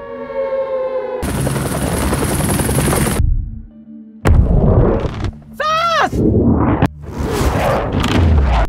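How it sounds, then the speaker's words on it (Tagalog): A helicopter in a film sequence thumps loudly through a shifting mix of siren-like wails and other effects, cut between abrupt scene changes with some voices. "si Bartholomew at ang kanyang koponan ay umatras gamit ang helicopter"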